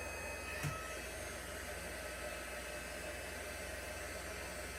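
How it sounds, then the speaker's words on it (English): A heat gun blows for stamp embossing, a steady whooshing hiss at moderate level that runs unbroken from start to finish, with one brief small knock near the beginning and no talk. "hold on a second while I run my embossing thingy. Heat gun is its technical term."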